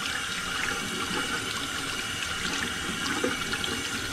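Hot water runs steadily from a tap in a continuous, even hiss and splash, with no pauses and no talking.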